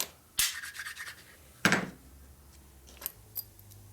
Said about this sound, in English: Now you rub them to make sure there's no dirt or anything in between them.